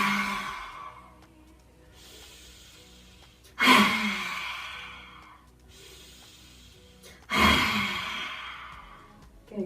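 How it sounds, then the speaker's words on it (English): Lion's breath during a yoga session: two loud, forceful open-mouth exhales a few seconds apart, each preceded by a quieter inhale, close and breathy. "as we breathe out, we're going to go like a big lion, okay, also known as lion's breath"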